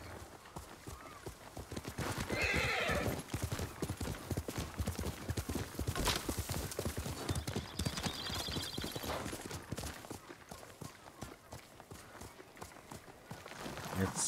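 A horse's hooves clip-clop in a rhythmic trot over ground in the Ghost of Tsushima video game, with a brief whinny, faint metallic jingles and low speech mixed in.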